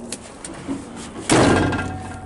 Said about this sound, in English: Doors open and close real nice on it.